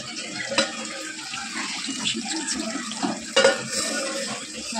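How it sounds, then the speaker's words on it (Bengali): A kitchen tap runs steadily while dishes are washed after cooking, a constant splashing hiss with a couple of sharper clinks and splashes, no talking. "বেশি কল চলছিল"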